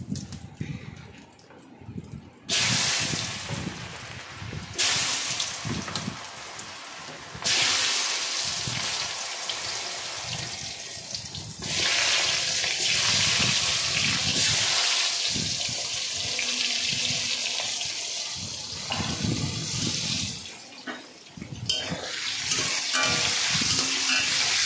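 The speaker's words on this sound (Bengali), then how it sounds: "এইবার দিয়ে দেবো আলুটা" Potatoes tipped into hot oil already tempered with dried red chilli, bay leaf and cumin seeds, frying with a loud, steady sizzle and hiss that swells and dips as the pan is stirred, filling the space without any voices.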